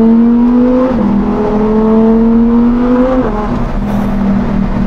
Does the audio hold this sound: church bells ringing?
no